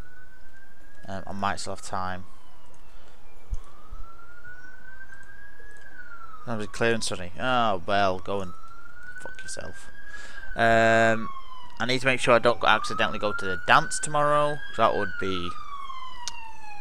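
Police sirens wail outside, a rising and falling tone heard faintly in the background throughout, while someone talks over it in bursts with clicking sounds.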